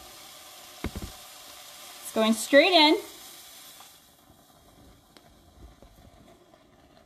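A steady frying sizzle of meat in hot broth for chicken pot pie hisses under a short burst of talk, then drops away to near quiet.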